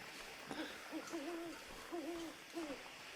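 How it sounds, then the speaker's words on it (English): Owls hoot repeatedly at night in the survival game The Long Dark, a series of soft, low, wavering calls at steady intervals over a quiet hiss of ambient wind, with no one talking. "Still got all the owls hooting and everything else you hear at night in the long dark."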